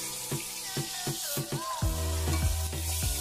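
Pointed gourd (potol) fries in salted oil with a close sizzle, broken by regular clinks of a spatula against the pan. No one speaks.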